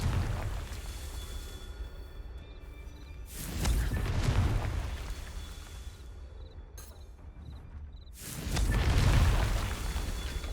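Two deep, rumbling blasts from the Confringo blasting spell in the Hogwarts Legacy video game, each a heavy low boom that rises and slowly decays, spaced several seconds apart over a quiet game ambience.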